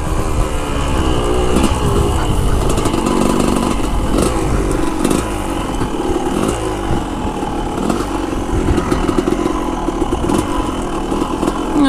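Motorcycle engine lugging at low revs in first gear on a rough off-road trail, a loud, steady, uneven throaty chug with occasional clattering bumps, close and continuous throughout with no speech.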